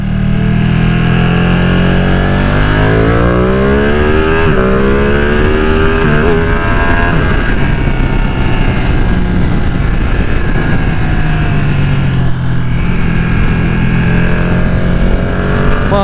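A 2020 Ducati Panigale V2 sport motorcycle engine accelerates hard and steadily for about sixteen seconds, its loud rising and falling revs sweeping through gears close by, with no talk over it.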